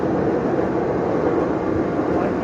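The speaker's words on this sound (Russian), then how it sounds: "Чикаго на метре едем." A Chicago elevated Brown Line train carries passengers, and its interior gives off a steady, loud rumble and hiss of wheels and motors with no distinct clacks, filling the whole stretch.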